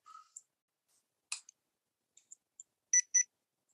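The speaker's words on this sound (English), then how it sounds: "That's it turning on, the little beep beep." A small handheld paranormal investigation device powers on with thin, high electronic chirps and clicks, widely spaced at first and ending in a close pair of brighter beeps, all against near silence.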